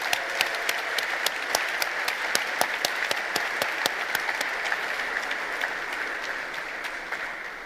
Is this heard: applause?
yes